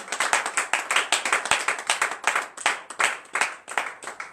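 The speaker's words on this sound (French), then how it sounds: "donnons-nous une vive acclamation" A congregation applauds during a morning prayer service in Benin, a steady, rhythmic burst of close clapping with fairly even pulses throughout.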